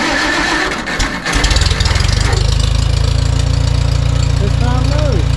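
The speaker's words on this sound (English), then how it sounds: "Let's crank it up and see if it's a little quieter." A Farmall 140 tractor engine cranks briefly, then catches and settles into a loud, steady idle close by, with a faint voice over it.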